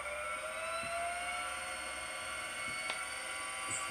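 Electric motor of a BMW EV conversion accelerating up to full throttle, a steady whine with tones rising in pitch over a constant hum, with faint clicks and no talk.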